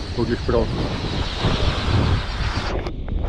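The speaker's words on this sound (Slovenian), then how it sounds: "Evo, vetrček je," Steady wind roars across the deck of a sailboat anchored off Uligan in the Maldives, a dense rushing buffet against the microphone while someone speaks briefly over it.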